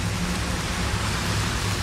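Rain falling outdoors as a dense, steady hiss of drops on surfaces, loud and continuous with a low rumbling undertone.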